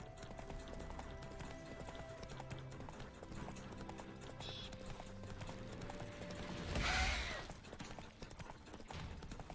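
A horse ridden at a steady pace in The Witcher 3, its hooves clip-clopping continuously with a brief louder surge of hoofbeats near the end.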